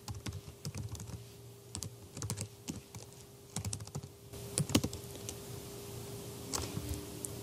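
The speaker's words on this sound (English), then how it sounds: "First, type in the Powtoon website in your web browser." Close keystrokes on a computer keyboard patter in short irregular bursts as a website address is typed, with brief pauses between groups of clicks and a faint steady hum behind.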